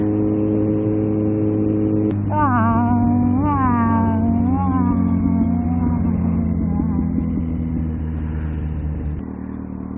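A combustion-engine car accelerating hard at a traffic light, its engine note rising in pitch through several quick gear changes before settling, loud and close over a steady low idle rumble, with no talking.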